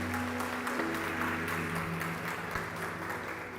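A church congregation applauds in a continuous, even wash of clapping at moderate distance, with some voices mixed in and no clear start or end.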